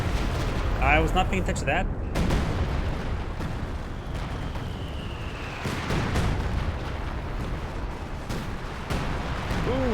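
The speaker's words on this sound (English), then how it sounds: "Oh, we got the siege barrage running on in." Siege artillery barrage in the WWII strategy game Company of Heroes 2, with repeated heavy explosion booms and shell impacts rumbling across the battlefield amid other combat noise, under someone talking.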